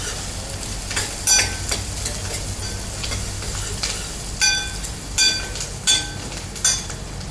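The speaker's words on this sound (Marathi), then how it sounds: "आता चांगला कांदा आपल्याला गुलाबी रंगावर परतून घ्यायचा आहे." Chopped onion fries in a hot pan with a constant crackling sizzle, while a spatula scrapes and stirs and metal clinks against the pan at irregular intervals, close and fairly loud.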